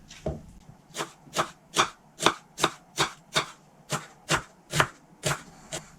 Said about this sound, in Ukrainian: Цибулю нарізаю кубиком.